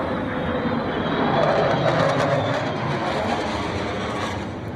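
A military jet flying over during a presidential welcome event, a loud sustained broadband roar that swells slightly in the middle and holds steady, heard alone without talk.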